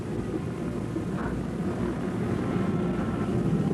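Warplanes revving their engines on the crowded deck of the aircraft carrier Hornet during the WW2 Doolittle Raid, a steady, loud propeller drone that holds constant throughout with no voices.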